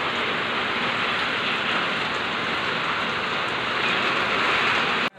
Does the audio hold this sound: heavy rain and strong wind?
yes